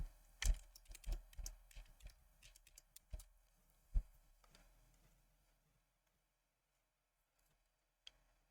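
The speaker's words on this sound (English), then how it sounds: "We need to insert our secret password again." Keys tapped on a computer keyboard while entering a password during a Linux Mint software install: a quick burst of close, crisp clicks over about five seconds, then near silence with one last isolated tap.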